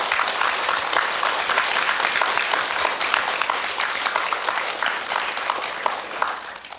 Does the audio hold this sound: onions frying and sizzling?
no